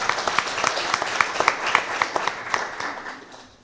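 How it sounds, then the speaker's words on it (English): A conference crowd at Uganda's first Deposit Insurance Conference breaks into applause, distinct individual claps ringing out in a rhythmic, fairly close patter that thins and fades toward the end. "Ugandans, you should clap for yourselves."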